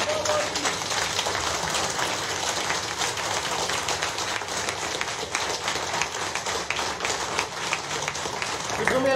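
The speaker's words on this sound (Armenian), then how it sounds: "Ուզում եմ ծափահարել եւ" Applause at a military award ceremony honoring a commander with the title Hero of Artsakh, a steady broadband clatter of many hands clapping throughout, loud and continuous.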